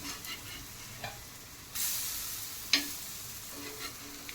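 Gram flour vadas fry in oil with a soft, steady sizzle. As they are turned, the hiss flares suddenly louder and a sharp clink of the utensil follows.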